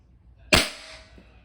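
A single sharp crack from a Crosman Shockwave .22 air rifle fitted with a scope, fired outdoors; the report is close and loud with a short fading tail, and quiet surrounds it.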